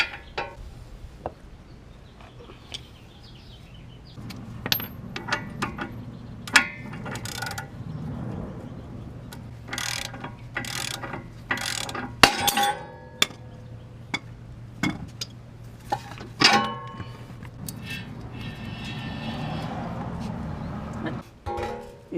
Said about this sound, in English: You can hear the bearing noise a little bit.